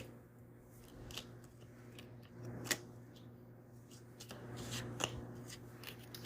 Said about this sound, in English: Let's pull some Buddha wisdom cards, oracle cards,